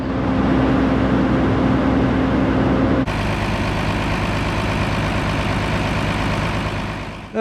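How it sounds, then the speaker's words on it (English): A John Deere two-cylinder tractor engine idles steadily nearby as it warms up, a low continuous rumble that shifts pitch slightly partway through and holds on without any talk. "I just got the tractors warming up out there"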